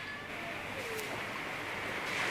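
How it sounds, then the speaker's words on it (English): Ocean surf on the coast of Jamaica washes in as a soft, steady broadband hiss, distant and faint, mixed with light wind noise and no clear individual wave breaks. "I don't know if you can hear the ocean."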